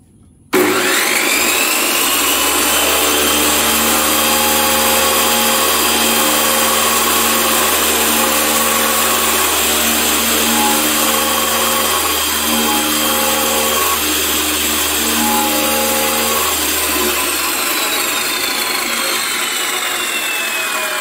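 A Hasston Art. 3085-001 cut-off saw spins up abruptly and runs at no-load speed, a loud, steady whining motor drone with a high metallic ring that holds unbroken for about twenty seconds.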